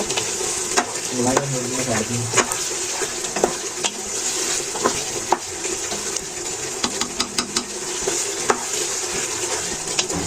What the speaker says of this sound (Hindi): जब तक ये ऊपर ऑयल नहीं आ जाता है तब तक हम इसको थोड़ा भूनते जाएंगे हल्के चम्मच के साथ